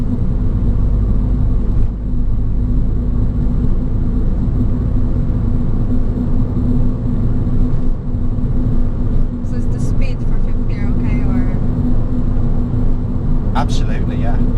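A car engine hums smoothly and steadily from inside the cabin, a low even drone with faint road noise and a few brief chirps.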